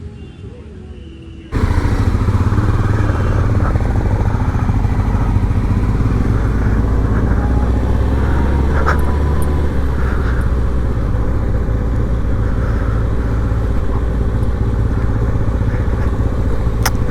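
A 600cc 6R sport motorcycle's engine starts up and runs at a steady, loud idle close by, with a dense, even rumble that holds without a break.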